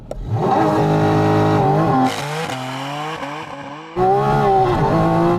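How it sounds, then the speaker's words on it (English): Car launching hard from 0 to 60 mph on cold tyres, a loud close engine surge with rising revs, a short dip at a gear change, then another climbing pull. "how exhilarating it is to launch from 0 to 60 miles an hour"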